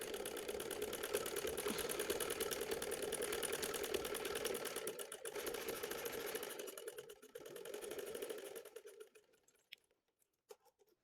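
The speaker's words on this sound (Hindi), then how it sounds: "इधर से किनारे से पकड़ के आप इसको सीधा करेंगे और इसकी लगा लेंगे सिलाई" Sewing machine stitching the hem of a ladies' trouser, a fast steady whirring rattle up close that slows and stops near the end with a few last clicks.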